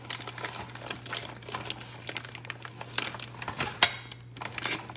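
A paper bag crinkles and rustles in short irregular bursts, close by in a kitchen, over a low steady hum, with a sharper crackle near the end.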